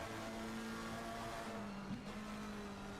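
A McLaren GT3 race car engine drones steadily on track at Paul Ricard in a racing game, a continuous onboard tone with a brief gear shift dip near the middle.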